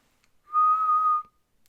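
A single steady whistled note held for just under a second, clean and close, with quiet before and after.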